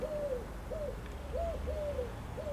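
A pigeon coos in a steady series of five short, soft calls spaced about half a second apart, set against a low background rumble with no voices.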